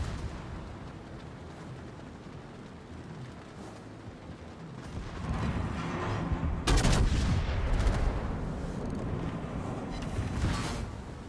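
Warship naval guns firing in the World of Warships video game, deep rumbling booms rising from a quieter background into a loud sustained barrage with a sharp blast partway through.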